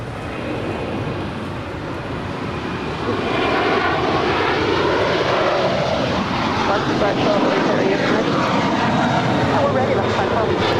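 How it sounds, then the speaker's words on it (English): An American Airlines jet takes off at LAX, its engine roar swelling from a steady rumble into a loud, sustained, rising thrust, while brief radio-style voices speak over it. "That was American Airlines 1871 departing to Charlotte."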